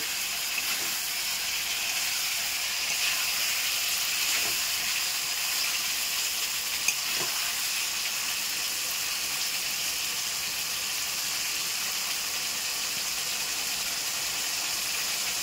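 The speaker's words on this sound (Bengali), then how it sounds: "এর মধ্যে এবারে আমি চিংড়িগুলোকে দিয়ে দেব।" Fried prawns sit in a hot pan of sauce, giving a steady, even hiss and sizzle that continues with little variation and only a few faint knocks.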